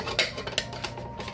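A lid goes onto a blender jar holding pesto ingredients with garlic and olive oil. A short close run of plastic clicks and knocks lasts about a second, with no voices.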